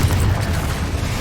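A Bombarda spell explodes in the Hogwarts Legacy video game, a loud, deep and sustained rumbling boom that fills the whole short moment.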